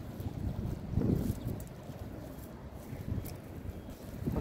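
Strong wind at sea buffets the microphone from a small fishing boat on a morning shallow high tide, a rough, surging roar that swells and eases unevenly throughout.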